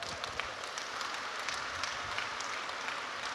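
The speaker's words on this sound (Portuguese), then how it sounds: "Por favor, de pé, vamos aplaudir Bishop T.D. Jakes por essa aula." A large conference audience applauds, a dense and even wash of many hands clapping at once, heard from a little distance and holding steady throughout with no talk.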